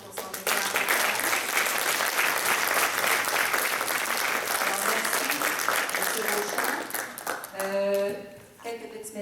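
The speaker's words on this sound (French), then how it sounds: "On va applaudir M. Beauchamp pour son déclaration." An audience at the Sanctuaire du Cap gives a speaker a loud, steady round of applause that lasts about eight seconds, then fades as a voice begins speaking.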